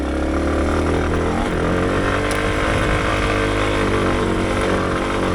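A Yamaha XT250 motorcycle pulls hard in second gear, its single-cylinder engine droning loud and steady close to the rider, with a constant wind-buffeted roar throughout.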